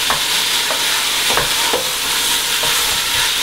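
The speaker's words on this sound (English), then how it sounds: "Stir the sausage and break it up just a little bit." Sausage browns in a pot as a spoon stirs and breaks it up. Several distinct scraping strokes come at an uneven rhythm over a continuous close, loud sizzle, with no talking.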